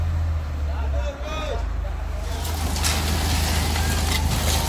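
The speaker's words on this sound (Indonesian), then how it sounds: "agar truk molen kedua ini bisa mundur dengan lancar tanpa tersangkut kabel" A concrete mixer truck backs up at a drainage construction site in Jakarta, its heavy diesel engine droning steadily up close with faint tonal beeps, while distant voices murmur in the background.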